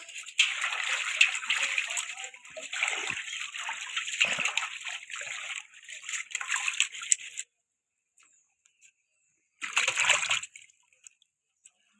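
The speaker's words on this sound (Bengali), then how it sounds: "দেখো ধুয়ে নিলাম" Freshly gathered plants are swished and rinsed in water, giving a splashy, sloshing sound for several seconds, then a pause and a shorter final burst of splashing.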